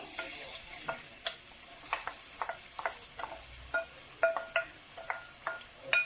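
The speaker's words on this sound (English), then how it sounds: "Just give it a stir." Onion, garlic and ginger sizzle steadily in hot oil while a spoon stirs the pan, scraping and tapping in an irregular rhythm.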